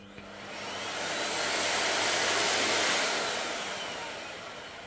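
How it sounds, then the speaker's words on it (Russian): A Miele vacuum cleaner runs steadily with a loud, broad whooshing roar, swelling slightly in the middle and then easing off, close by and with no talking. "последним номером нашего сегодняшнего концерта пылесос Милли"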